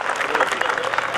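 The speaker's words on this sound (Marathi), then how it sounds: "सचिनजीसाठी जोरात टाळ्या होऊन जाऊ देत" An audience at a lecture-series speech event applauds loudly for the speaker Sachin, a dense burst of many hands clapping at once.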